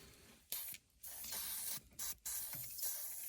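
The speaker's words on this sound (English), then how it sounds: "Just spray a little tiny bit of persuasion spray on there." Several short hissing bursts from an aerosol lubricant can sprayed onto Porsche Cayman coolant pipes, quick sprays separated by brief pauses, close and fairly quiet.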